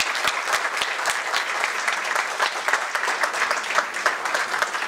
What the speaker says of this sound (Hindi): आइए हम सब मिलकर उनको जोरदार तालियों से उनका स्वागत करें।